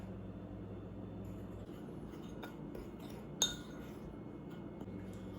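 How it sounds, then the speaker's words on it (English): A spoon stirs a protein pumpkin spice dip mixture in a bowl, with quiet scraping and light clinks and one sharp metallic chink near the middle. "Let's give that a quick stir."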